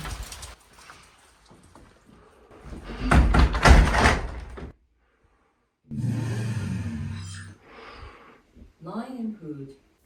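A room door fitted with a Switchbot contact sensor opens and closes in one loud, rattling burst of movement, with someone speaking before and after it.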